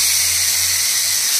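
Broiler chicken sears in a pan while being cooked down for chicken khichuri, giving a loud, steady hiss that holds evenly throughout with no voices.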